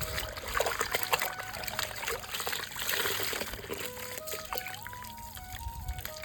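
A vetiver garland is rinsed by hand in water, making irregular splashing, trickling and dribbling sounds close by, while faint tonal sounds play in the background.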